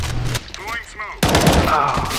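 Gunfire in the video game CS:GO, a sharp loud report followed by rapid shots and echoing tails, with voice chat talking over the game sounds.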